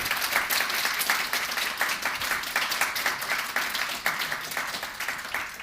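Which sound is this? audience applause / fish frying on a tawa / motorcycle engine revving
audience applause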